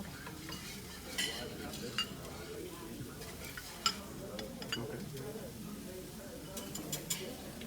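Whisk scraping and clinking in a pan as Parmesan cheese is worked into a sauce, soft steady stirring with light metallic taps and a faint background sizzle.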